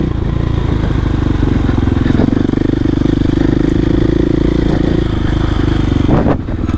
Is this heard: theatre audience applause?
no